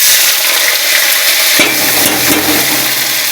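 Oil sizzles and fries loudly in a hot kadai, a dense, steady hiss close by that carries on throughout, with a faint clink partway through and no talking.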